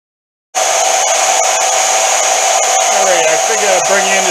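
A portable power saw starts abruptly and runs loud and close with a steady high motor whine, cutting wood, its pitch dipping slightly under load toward the end.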